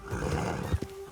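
A horse whinnies in the video game Red Dead Redemption 2, a close, loud neigh with a faint clip-clop of hooves beneath it.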